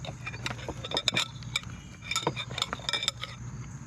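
A spoon clinks and scrapes sharply against a bowl holding a sticky homemade slime mix of glue. It makes a quick, irregular run of close metallic taps and knocks.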